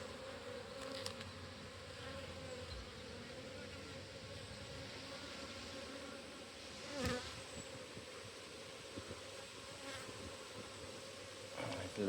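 Honeybees buzzing over a hive frame holding brood and larvae, a steady faint drone with a few individual bees flying close past, no talk.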